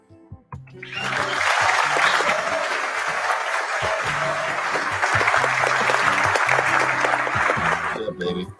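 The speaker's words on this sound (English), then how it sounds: "I think that deserves a huge round of applause" A round of applause, dense clapping that rises after a brief lead-in and holds steady for several seconds before tapering at the end.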